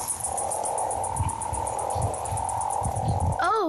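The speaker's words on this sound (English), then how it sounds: "there's a symphony of hundreds of toads when they congregate around the breeding water bodies" Hundreds of toads gathered at a South African breeding pond call together in a dense, steady chorus of trilling croaks, loud and continuous, with a brief warbling note at the very end.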